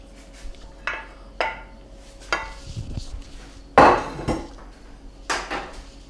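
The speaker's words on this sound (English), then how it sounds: "we're going to take these veggies and spill them right into our pot here" Chopped vegetables tumble into a cooking pot in a home kitchen, making a string of separate clattering knocks and scrapes against the metal, with one louder clunk in the middle, all close by and with no voices.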